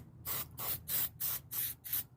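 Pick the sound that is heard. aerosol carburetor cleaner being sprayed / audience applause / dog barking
aerosol carburetor cleaner being sprayed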